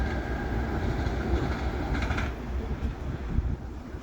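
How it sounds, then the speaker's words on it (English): An Acela express train rushes through New Haven station without stopping, a steady loud rumble of wheels and cars rolling past close by for the whole stretch. "I saw this Acela train coming through, but it didn't stop."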